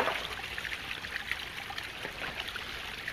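A shallow mountain stream in the Scottish Highlands runs and trickles steadily up close, a continuous bright rushing of water with no talk over it.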